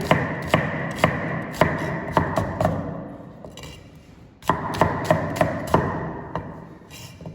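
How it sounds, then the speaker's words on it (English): A knife slicing an onion on a cutting board, a series of sharp close chopping knocks in two quick bursts, each fading between strokes, with no talking. "What I'll do is I will gently slice the onion."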